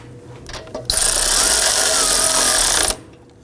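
Impact or power tool spinning a tie rod end nut onto the steering knuckle of a 2005-2009 Subaru Legacy, a loud continuous whirring rattle of about two seconds, close up, with quieter clicks before it.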